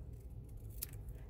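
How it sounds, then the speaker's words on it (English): Scissors snipping off the end of card paper while making a stamped spinner card, one quick crisp cut close by against a quiet low background. "we're going to snip off the end"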